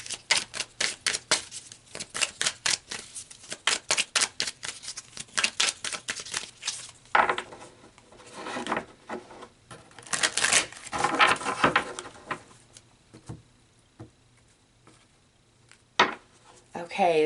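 Tarot cards being shuffled give a fast, rhythmic run of crisp riffling snaps, then slower flicks and shuffles as cards are pulled and laid down, close and fairly quiet with brief pauses between.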